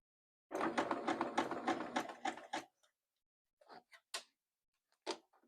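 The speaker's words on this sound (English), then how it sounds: "watch how I sew" A sewing machine stitches a slit in a close burst of rapid mechanical whirring for about two seconds, followed by a few short clicks and one brief run of stitches.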